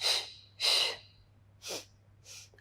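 A breathy exhale repeated four times during a beginner Pilates workout, two strong near bursts then two shorter, softer ones, over a faint steady low hum.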